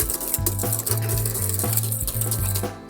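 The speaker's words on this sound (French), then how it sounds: "Je fais bien avec mon fouet sur toutes les parties pour redescendre le sucre." A whisk beats an egg and sugar mixture for egg-based buttercream in a bowl, making quick, regular strokes that clink and scrape up close, with a low hum underneath.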